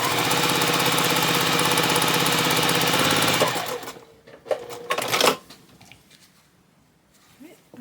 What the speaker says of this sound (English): I'm going to go ahead and sew this row together